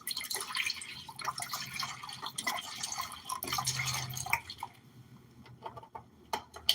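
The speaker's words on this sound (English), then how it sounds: "I'm adding some water to it though." Water poured into a pot of wonton beef stew, a bright splashing trickle with uneven surges that ends in a few scattered drips and small clinks.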